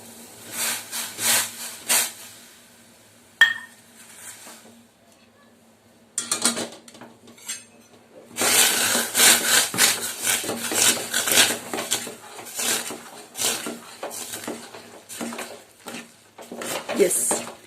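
Rice flour is stirred into boiling water in a pot for dill rice roti, with bursts of scraping and clattering utensil strokes against the pot, separated by quiet pauses.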